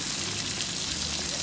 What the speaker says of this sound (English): Gonna let that sizzle there for just a few more minutes.